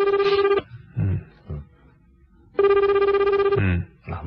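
Ringback tone of an outgoing telephone call in a Japanese radio studio: two long ringing bursts with a pause between them, clear and fairly loud, with brief bits of talk in the gaps.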